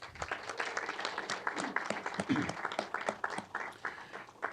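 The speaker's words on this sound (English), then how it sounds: "let us give them another round of applause, please" At a sheriff and corrections academy graduation, an audience gives a quiet, fairly distant round of applause, the clapping uneven and swelling in small bursts for several seconds.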